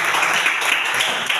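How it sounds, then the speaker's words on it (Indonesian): Short burst of applause from a group at a school teaching-practice presentation in Indonesia, steady dense clapping throughout with no pauses, fairly close and alone. "Oke, kita tepuk tangan kasih aplaus untuk"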